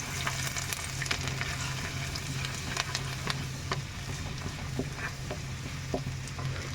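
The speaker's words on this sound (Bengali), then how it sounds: "দুই তিন কোয়া রসুন, এটা একটু ভাজবো।" Two or three garlic cloves fry in hot oil in a pan, giving a steady, close sizzle with scattered sharp pops and crackles throughout.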